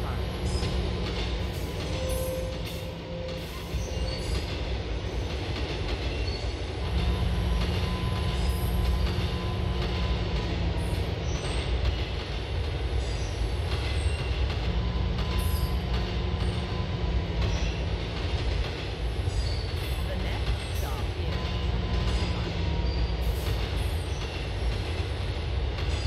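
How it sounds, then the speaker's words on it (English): A C-line subway train from GTA IV runs continuously with a loud, heavy rumble, rhythmic wheel clatter and intermittent metallic squeals and tones throughout. "This is a C train."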